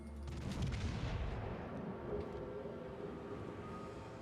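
Heavy naval guns boom out a salvo in a warship battle game, a deep rumbling blast at the start that rolls away into a long, low decaying tail with no talk over it.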